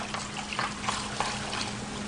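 A splash of liquid is poured into a pink cocktail mixed in a glass, giving a steady faint trickle and pour with a few small splashy bursts, alone without talk.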